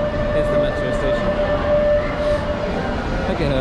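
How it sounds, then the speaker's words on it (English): A metro train at a station in Lima, Peru gives a steady, loud rumble with a sustained electric whine running through it, heard close by throughout. "So we're going to leave the metro. Here's the metro station."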